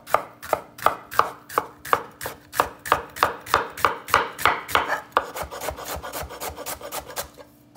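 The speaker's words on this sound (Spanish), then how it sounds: "Y vamos a filetear esta cebolla." A knife slicing an onion on a cutting board, heard up close as a steady run of crisp, evenly spaced chops that speed up into quicker, lighter cuts near the end.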